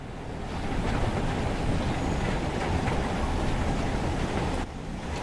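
A train runs on the rails on Sherman Hill in the Train Sim World video game, giving a steady, loud rumble of wheels and cars that cuts off near the end, with no talk.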